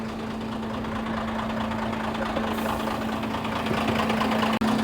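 A company vehicle's engine idles steadily after being started, its low, even hum and knocking vibration holding close and constant with no voices.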